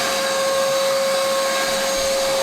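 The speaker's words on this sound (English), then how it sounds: "now we're just gonna start with basic vacuuming" Vacuum cleaner running steadily while cleaning a car's interior, a constant close whine with a strong tonal hum throughout and no pauses.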